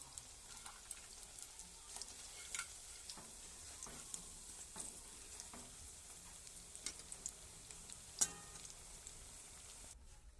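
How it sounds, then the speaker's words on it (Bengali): Food for ghugni frying in a pan, a faint steady sizzle with scattered light ticks and clicks of a utensil, quiet and close, no talk. "আমার কিছু ভাজা হয়ে যাচ্ছে"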